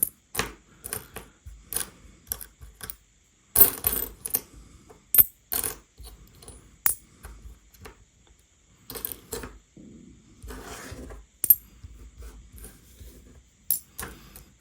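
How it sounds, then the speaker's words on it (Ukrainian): Small Soviet metal coins clink and rattle as they are handled, dropped and shuffled, in irregular bursts of sharp taps with brief pauses. "ось потрапили до рук декілька радянських монет"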